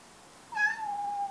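A single clear cat meow rises sharply and then trails into a long, drawn-out tone, close to the microphone, over a quiet indoor room with no talking.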